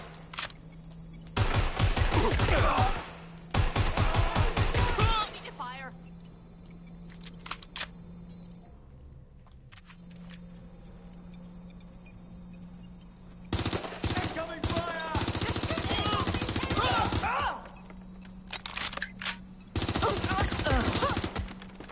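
Bursts of automatic gunfire from the video game Watch Dogs Legion, several loud rapid volleys separated by quieter gaps, with a steady low hum underneath.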